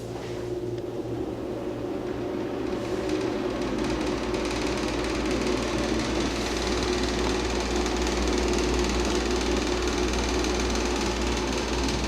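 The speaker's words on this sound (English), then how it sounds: "this is an industrial vacuum exhaust fan" A large ILG industrial restroom exhaust fan runs with a constant loud whirring drone and a steady mechanical hum, unbroken throughout.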